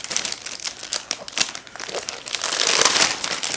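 Plastic school folders crinkle and crackle while being handled, in a run of irregular rustles and crisp crumpling bursts that grow denser toward the end. The handling is close and no one speaks.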